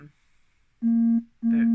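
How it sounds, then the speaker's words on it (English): A phone alert sounds as two identical flat electronic tones, each about a third of a second long and loud, separated by a short gap, with no speech. "remember to turn off alerts, and that'll stop happening."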